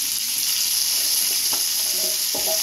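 Turmeric and Malabar spinach stalks sizzle loudly in a hot pan, a steady close crackling hiss with brief scraping stir strokes toward the end.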